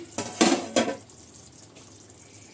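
A spoon clanks and scrapes against a pot while thick chicken biryani gravy is stirred, two or three loud strikes early on, then a faint, quiet scraping.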